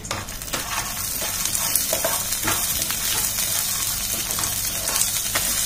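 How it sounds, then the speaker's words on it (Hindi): Peanuts roasting in desi ghee with cumin, black pepper and rock salt in a pan, a steady close sizzle with scraping stirs and small crackles throughout, no voices. "देसी घी और ये मूंगफली के दाने, और इनको हम भून लेंगे।"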